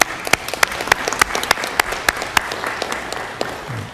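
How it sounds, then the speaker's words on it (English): City council chamber audience applauds the mayor, a steady patter of clapping with several sharp individual claps standing out, moderately loud and continuous. "Let's give him a round of applause."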